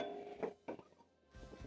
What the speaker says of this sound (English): Then I'm going to grab another pan for making our sauce.